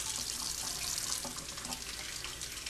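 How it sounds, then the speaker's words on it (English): Warm tap water runs steadily from a faucet over a glass-etching stencil as it is washed at a sink, a continuous close splashing hiss with no talking. "So wash your stencil under warm tap water."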